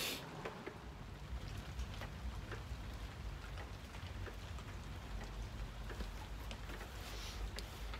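Steady rain falls outdoors, a dense continuous patter, faint and even throughout with no voices.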